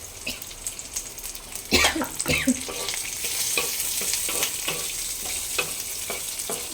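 Dried red chilies, garlic and black cumin frying together in a pan, a continuous hiss of sizzling oil with a couple of louder stirring scrapes early on, close and fairly steady.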